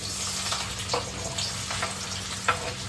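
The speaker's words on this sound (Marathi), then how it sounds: "कांदा गेला तेलात. पटापट पटापट फ्राय करूया आपण त्याला." Chopped onion hits very hot oil and fries with a steady close sizzle, broken by several brief scraping stirs of a spoon against the pan.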